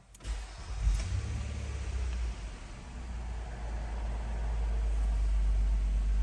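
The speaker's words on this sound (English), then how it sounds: "let's go ahead and start this vehicle up for y'all" A 2018 Nissan Murano SV starting up: a quick starter crank and catch, a brief rise in revs, then a steady, close idle hum that continues without talk.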